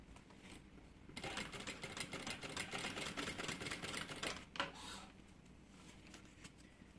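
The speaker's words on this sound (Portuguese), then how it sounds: "Essa minha máquina de costura, tem bastante gente que pergunta sobre ela. Ela é uma transporte duplo, Jack H5." A Jack H5 double-feed (walking foot) industrial sewing machine stitching fabric close to the edge, a steady rapid mechanical chatter that runs for about three and a half seconds, then slows and stops, with no talking.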